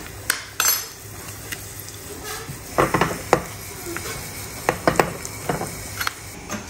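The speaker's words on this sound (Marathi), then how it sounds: "याला तडका द्यायचा आहे याच्यामध्ये ना तेल टाकलेलं आहे तीन चार लसणाच्या पाकळ्या हे जिरे" Garlic cloves, cumin seeds and red chili powder fry in hot oil for a tadka in a home kitchen, a low steady sizzle punctuated by irregular clinks and scrapes of a spoon against the pan.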